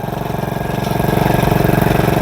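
A motorcycle engine runs steadily up close as an elderly rider learns to ride, its rhythmic low putter rising slightly in revs and loud throughout, with no talking over it.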